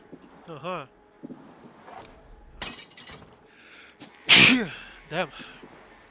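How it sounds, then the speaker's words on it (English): A sharp, loud sneeze bursts out in the Assassin's Creed Valhalla game, following quieter in-game voices and ambient sounds, with a brief vocal sound after it. "Damn. Sneezing."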